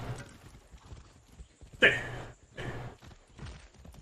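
Horse hooves clip-clop while riding in Far Cry 6, a few soft uneven bursts of steps at moderate distance with a brief spoken word mixed in.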